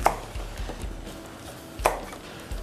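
A knife slices shallots thinly on a board, giving a few soft, separate chopping knocks spaced unevenly and heard close and alone.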